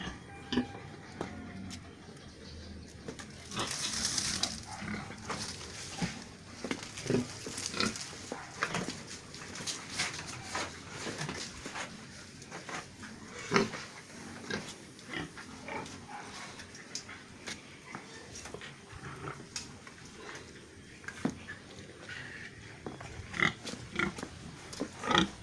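Pigs grunt and snuffle repeatedly at close range on a pig farm, a steady stream of rough, uneven grunts with occasional louder squeals amid farmyard noise.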